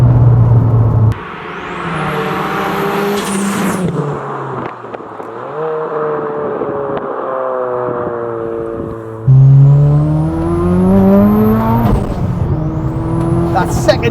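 A turbocharged 650bhp Ford Sapphire Cosworth accelerates hard in second gear, engine note rising steadily with a high turbo whistle above it, a gear change dropping the pitch before it climbs again, loud and close from inside the car.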